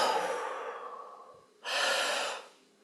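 A person breathes deeply during guided meditation: a long, slow, close breath fading out, a short pause, then a stronger rushing exhale or inhale.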